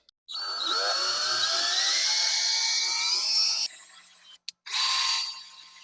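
A thin drill bit whines steadily at high pitch for a few seconds, rising slightly, then stops; two brief bursts of drilling follow, close up, deepening a screw hole.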